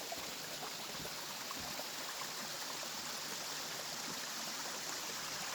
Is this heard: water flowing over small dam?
yes